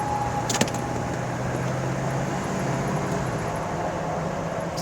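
A 1997 AM General Humvee with a 6.5-liter turbo diesel cruises on a highway, heard from inside as a constant drone of engine and road noise, with one brief click near the start.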